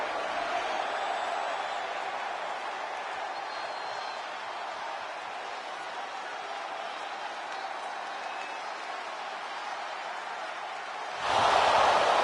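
A virtual arena crowd in WWE 2K25 roars in a steady, dense wash of cheering throughout, swelling louder and brighter at the very end, with no clear voices standing out.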